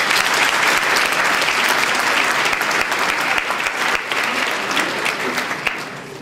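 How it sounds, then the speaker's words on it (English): Loud, dense audience applause at a Yale Black Solidarity event rolls on steadily for several seconds, many hands clapping together and easing slightly toward the end, with no voices over it. "So please give a round of applause for yourselves."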